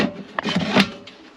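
A large drawer in a campervan's kitchen unit slides open or shut with a brief wooden rubbing scrape and a soft knock, close by and moderately loud, with no talking.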